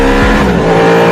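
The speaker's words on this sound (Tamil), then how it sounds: "என்ன கார் சவுண்ட் கேக்குது?" A car engine roars loud and close as the car arrives, a strong low drone with a rising pitch sweep near the start, then steady revving under a bright, dense mechanical hum.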